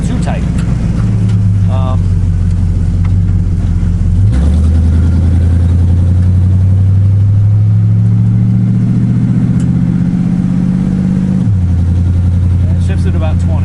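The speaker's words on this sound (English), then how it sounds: "I hate being in first gear in this thing. It just seems to rev really high." A car engine in first gear revs high and steady, with the pitch climbing and dropping as the revs change. It stays loud and close throughout, with a faint hint of talk underneath.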